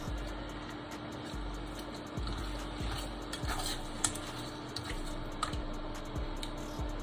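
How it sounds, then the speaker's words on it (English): Apple cake filling from two emptied cans being stirred in a pot, soft wet squishing and dripping strokes repeating steadily at close range over a constant low hum, with no talking. "just make sure you keep stirring"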